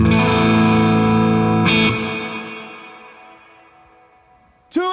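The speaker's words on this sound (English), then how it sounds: "listen to the verb on this" A distorted electric guitar chord through a Bad Cat Hot Cat 15R amplifier rings out and decays slowly in a long reverberant tail, followed by another sharp strum at the end.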